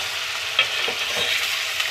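Raw chicken being mixed in a pot for biryani, a constant sizzling hiss with a couple of soft stirring scrapes.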